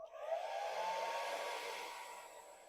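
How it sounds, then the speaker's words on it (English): A WavyTalk hair dryer on its low fan setting blows with a steady airy whir, heard close and alone after a quick switch-on, holding evenly before easing off slightly. "We'll just check it on low fan setting"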